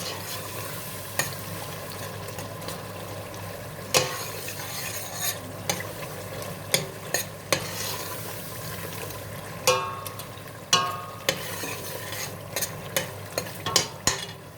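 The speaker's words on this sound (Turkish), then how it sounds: "Evet arkadaşlar salçayla da kavurdum birlikte." Chicken pieces sautéed with tomato paste in a pot for a chickpea stew, a steady close sizzle broken by repeated scraping stirs of the spoon against the pot, no talking.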